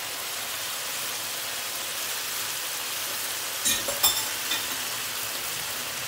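Ground turkey mince simmering in milk in a pan, a steady soft wet sizzle and bubbling throughout, with a few brief clinks of a utensil stirring against the pan near the middle.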